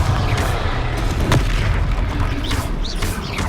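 A blasting spell explodes during combat in Hogwarts Legacy, heavy booming impacts over a dense, continuous rumble of battle noise with a brief sharp crack partway through.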